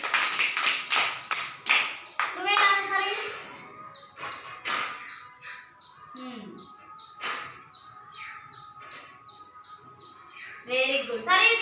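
Children in a classroom clap their hands in quick, rhythmic bursts, with high young voices and bird-like chirps filling the gaps between rounds.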